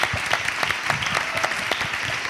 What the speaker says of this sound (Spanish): pido un fuerte aplauso a Ira Torres, a Diego Peña y a Bernal